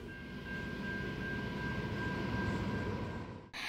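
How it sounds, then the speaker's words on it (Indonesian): Rumble of The Ghan, Australia's long passenger train, a steady low rolling roar with a faint whine held for several seconds before cutting off abruptly near the end. "Australia juga punya rangkaian kereta api terpanjang di dunia."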